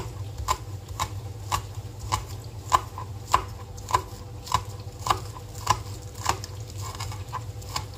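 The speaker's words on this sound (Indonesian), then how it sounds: "kemudian saya potong-potong daun bawang" Green onions being chopped with a knife on a board, about a dozen evenly spaced sharp chops at a steady rhythm, close and clear over a low background hum.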